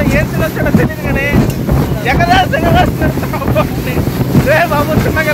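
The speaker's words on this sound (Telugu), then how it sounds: "కెరటాల మీద దుమ్ము లేపుకుంటూ వెళ్తా ఉంది బోటు" A speedboat races over waves on a mangrove forest tour in Langkawi's Kilim Geoforest Park, its engine droning loudly under buffeting wind noise while people shout and talk excitedly throughout.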